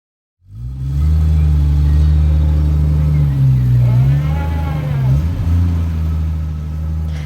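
A car engine starts and drives during a test drive ahead of a tune-up, a loud, close, steady low rumble that swells briefly with acceleration midway and then settles.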